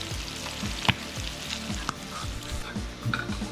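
Squid rings sizzle steadily in a hot frying pan as calamari cooks, a close, continuous crackle with a few sharper pops and no voices.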